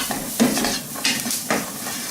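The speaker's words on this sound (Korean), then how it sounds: "야채하고 피망하고 향이 좀 올라오게끔 해서 이렇게 좀 볶겠습니다" Vegetables and bell pepper with garlic stir-fried in a dry pan with no oil, a soft steady sizzle broken by a few scraping stirs of a utensil against the pan.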